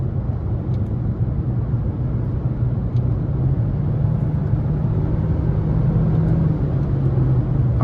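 The 2.5-litre engine of a 2023 Nissan Altima 2.5 SR with a CVT drones steadily from inside the cabin as the paddle shifters are tried, a low, even hum that rises slightly in pitch partway through over road rumble.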